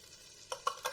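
A whisk working flour into melted butter for a roux taps and scrapes the pan in three quick close strokes over a faint background hiss.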